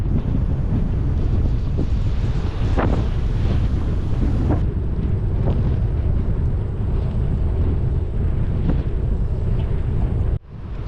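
Heavy wind roars and buffets the microphone while riding into a strong headwind on a long-distance ride, loud and continuous, then cuts out briefly near the end.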